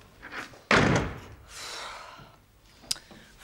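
A door swings shut with one sharp, solid slam, followed by a fading rustle, quiet movement and a faint knock near the end.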